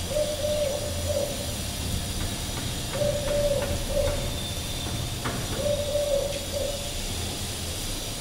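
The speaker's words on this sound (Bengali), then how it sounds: "এটা আমার সবুজ ঘুঘু জোড়াটা।" A pair of green doves coos in soft, low, repeated phrases of a few notes each, recurring about every two to three seconds over a steady background hiss.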